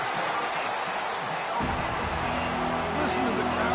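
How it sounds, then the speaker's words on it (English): Stadium crowd roar from an EA Sports College Football game at the Oregon Ducks' opening kickoff return, a broad steady swell that rises midway and sits under a commentator's voice. "Listen to the crowd energy here in the early going."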